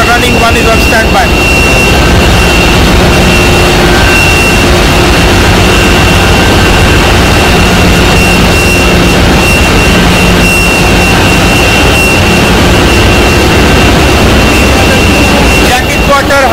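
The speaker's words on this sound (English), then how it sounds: "we have three fresh water cooling pumps" Several fresh water cooling pumps run together in a ship's engine room, a loud, steady broadband machinery roar with a constant tonal whine that holds unbroken for the whole stretch.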